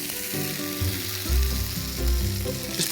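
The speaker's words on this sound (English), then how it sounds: "Just put them in the sage butter and let them bathe, let them relax." Pumpkin gnocchi frying in sage butter: a close, bubbling sizzle with low rumbling swells and a few faint clinks, no voices.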